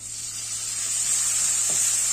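Chopped tomato hitting hot oil in a pan while cooking a traditional fresh peanut amti, a steady bright sizzle holding close and even throughout.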